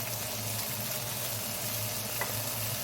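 Onions sizzling and frying in a hot pan alongside filet mignon steak, a steady crackling hiss heard close up with no talk.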